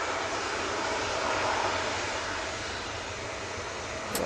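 A TUI airliner moves past at Manchester Airport, giving a continuous, even jet rumble and hiss of moderate loudness, with a brief sharp sound right at the end.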